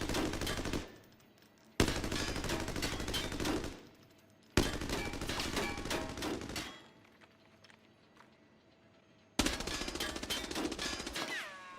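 Full-auto rifle bursts from the U1 and H4 in Arena Breakout Infinite ring out in four long sustained strings of rapid shots, each cut off abruptly by a short quiet gap, loud and close with no talk.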